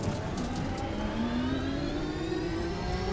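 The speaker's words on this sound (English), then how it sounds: "So what you're hearing is actually the sound of a V12 engine." V12 engine sound mod on the Formula Lithium 2019 electric race car in the Assetto Corsa racing game, a smooth sustained engine note rising steadily in pitch as it revs through a gear, loud and alone.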